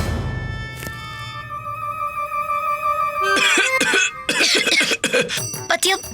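Coughing from a character in a Tamil comedy drama episode, a few harsh close bursts in quick succession over background music, followed by a burst of speech.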